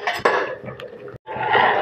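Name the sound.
stirring custard with milk in a pot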